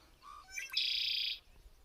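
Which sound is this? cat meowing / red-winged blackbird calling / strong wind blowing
red-winged blackbird calling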